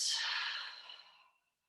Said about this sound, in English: breathe in and breathe out